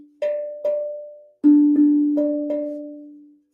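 Steel tongue drum, freshly tuned, struck in a slow melodic run: six clear ringing notes with long sustain, each strike sounding close and alone with no talking.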